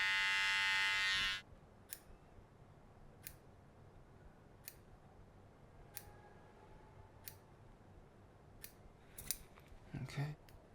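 Small scissors trimming hair give a string of crisp, isolated snips, about one every second, close and fairly quiet against a hushed room after a brief loud burst of noise at the start.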